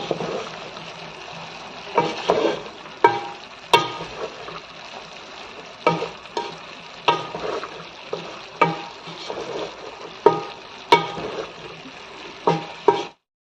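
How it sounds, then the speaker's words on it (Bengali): Spices stirred into tomato paste with salt and turmeric sauté in a pan: a low sizzle punctuated by regular clattering scrapes of a spoon against the pan, roughly one every second. "এখন আমি আবারও ভালো করে মিশিয়ে কিছুক্ষণ কষিয়ে নিব"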